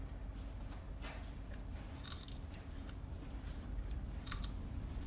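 Crunchy jumbo strawberry chewed close up, with a few crisp bites and crunches over a steady low background hum.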